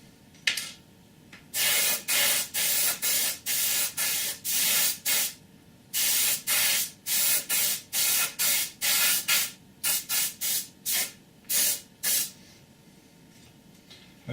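A can of spray paint hisses in a long series of bursts, some short and some held for about a second, loud and close against a quiet room with no talking.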